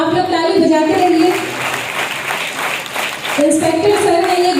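An audience claps at a police ceremony marking the close of traffic month in Basti, with steady applause running under a loud amplified voice on a public address system.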